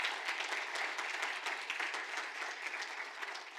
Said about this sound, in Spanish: Vamos, darle un aplauso al Señor.